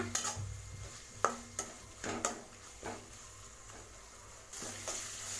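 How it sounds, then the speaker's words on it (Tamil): Mint and coriander leaves being sautéed in a pan for mutton vermicelli biryani, with quiet spoon clatter and a string of scraping strokes over a soft, low background. "இதை நல்லா மிக்ஸ் பண்ணி வதக்கி விடுங்க."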